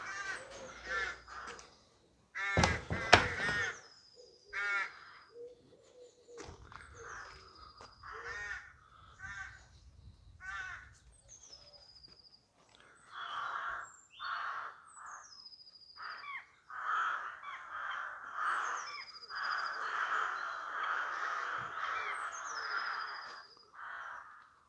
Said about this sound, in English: Proper noisy crows, gotta say.